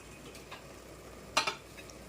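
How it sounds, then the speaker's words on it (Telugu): Masala for an egg, drumstick and potato curry fries in a pan with a soft, low sizzle. A couple of quick scraping stirs stand out near the end, all fairly quiet with no talking. "మసాలా కూడా బాగా వేగిపోయింది"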